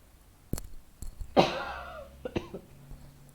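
A few sharp coughs, one heavy and rasping, come close up in quick bursts with short pauses between them.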